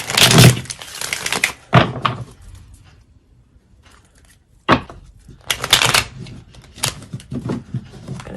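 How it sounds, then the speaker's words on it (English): A deck of tarot cards is shuffled in two close, loud bursts of riffling and sliding, separated by a quiet pause. "Shuffle one more time because I dislike wonky shuffles."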